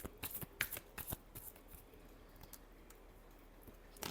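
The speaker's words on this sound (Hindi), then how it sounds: "last shuffle" A tarot deck being shuffled by hand during a reading: quick, crisp riffling card flicks in a busy cluster, then sparser soft taps and slides, close and quiet.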